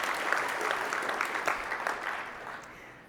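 Conference audience at a data community summit clapping in a large hall, a dense burst of applause that gradually fades toward the end.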